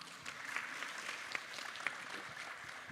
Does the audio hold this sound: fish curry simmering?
no